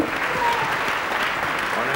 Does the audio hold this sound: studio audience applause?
yes